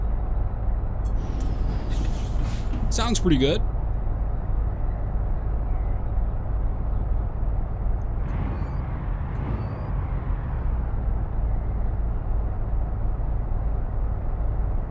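Caterpillar 3406 550 hp truck engine in American Truck Simulator, a continuous low diesel drone that runs throughout, with a short burst of air-brake-like hiss early and a brief spoken remark over it.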